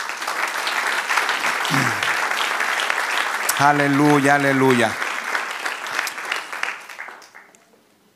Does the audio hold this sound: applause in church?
yes